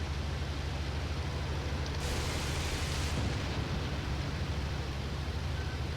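Aircraft in the IL-2 Great Battles combat flight game: a dense, roaring wash of engine and wind noise, broken by a sharper burst of rattling gunfire lasting about a second, near and loud throughout.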